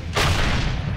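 A tank cannon fires an armor-piercing shell at an enemy tank 500 meters away in the Tunisia campaign: one loud, close boom with a sharp onset, its deep rumble rolling out and decaying over the next second.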